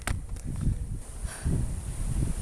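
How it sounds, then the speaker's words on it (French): Low gusts of wind buffet the microphone in uneven surges at the Parc du Mugel in La Ciotat, France, with faint rustling between them and no voices. "On entend bien le vent."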